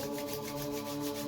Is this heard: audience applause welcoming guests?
no